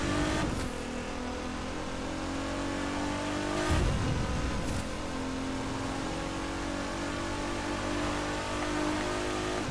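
Nissan GT-R driving on a road, its engine droning steadily close by with a brief louder surge of acceleration near the middle, no talking over it.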